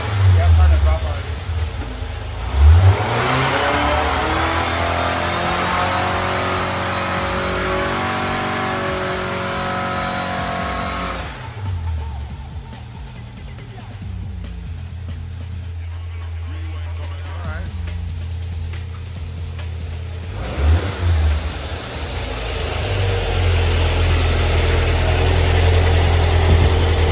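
An aircooled VW 1641 engine on a dyno in a budget 120 hp build, revving up hard in repeated pulls, dropping back toward idle in between, loud and close, with a few voices talking over it.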